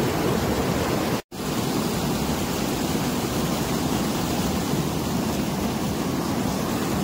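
Water rushes hard through a small river dam, a loud, dense, continuous roar broken only by one momentary dropout.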